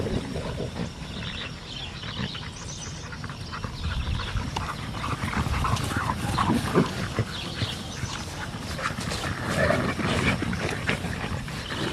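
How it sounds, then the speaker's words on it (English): Dogs at a no-kill animal rescue shelter make restless noises amid a busy, reverberant kennel background throughout, with no talking. "the blonde dog with the collar on is Leo"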